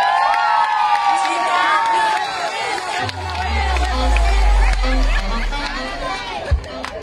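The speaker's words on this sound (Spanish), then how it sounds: "Otro aplauso" A crowd cheers and claps at a carnival pageant, with loud whooping shouts and high voices over a continuous roar of applause and a deep rumble partway through.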